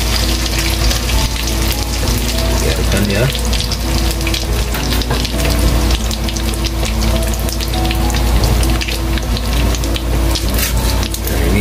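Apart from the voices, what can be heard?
frying rempeyek teri crackers in oil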